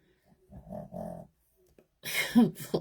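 A puppy snorts and grunts in two short bursts close by, followed by louder rough snuffling breaths and a brief growl-like snort near the end.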